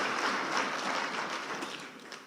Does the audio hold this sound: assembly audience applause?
yes